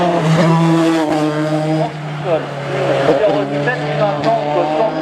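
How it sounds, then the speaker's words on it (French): Formule Renault race car at a national hill climb in Hébécrevon, its engine droning loud and close for the whole stretch with shifting pitch as it passes, under an announcer's running commentary. "la pilote de Formule Renault qui arrive aussi à l'instant devant nous"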